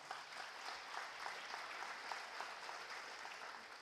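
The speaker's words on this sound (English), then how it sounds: "Let's have a round of applause for the ones that aren't here." Sustained audience applause at a high school athletic awards banquet, a dense, even wash of clapping with scattered sharper claps, continuing without talk.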